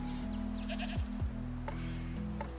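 A goat in the Jurassic World Evolution 3 park game bleats in a few short, close calls over a steady droning game soundscape.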